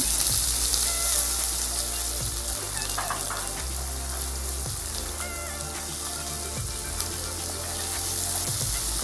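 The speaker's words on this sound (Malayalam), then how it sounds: "വെളിച്ചെണ്ണ ചൂടായി കഴിഞ്ഞു. നമുക്കതിലേക്ക് കടുകിട്ട് കൊടുക്കാം. സവാളയും ഉള്ളി," Mustard seeds and onions fry in hot coconut oil, giving a dense, steady sizzle with scattered crackles and pops, close and continuous throughout.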